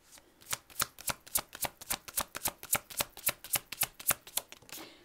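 A deck of cards is shuffled in a quick run of about twenty crisp riffling snaps, close and alone, while an advice card is drawn in a tarot-style reading.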